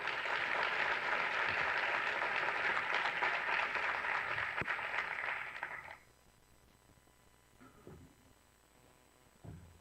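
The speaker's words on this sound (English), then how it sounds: "I would like you to give me a round of applause for our first speaker, Mr. Massengale." Conference audience at a gang-related conference applauds loudly for about six seconds, a dense steady clapping that cuts off abruptly into quiet room tone with faint shuffles.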